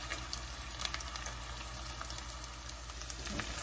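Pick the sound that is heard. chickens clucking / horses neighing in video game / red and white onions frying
red and white onions frying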